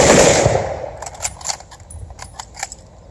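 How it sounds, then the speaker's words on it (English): A ceremonial firing party's rifle volley cracks loudly at the start and echoes away, followed by sharp metallic clicks of rifle actions being worked in the open air. "Firing party, fire your 3 volleys."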